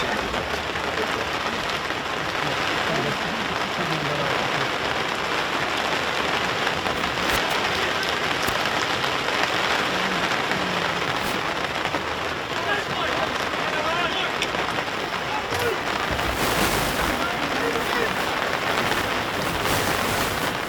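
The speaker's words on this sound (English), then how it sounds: "Torrential rain coming down, interfering with the microphone." Torrential rain pounds the microphone at an outdoor rugby league match in worsening weather at a park, a dense, steady roar of spattering hiss filling the whole stretch without a break.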